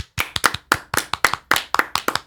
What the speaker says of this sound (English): If we all clap, it's a round.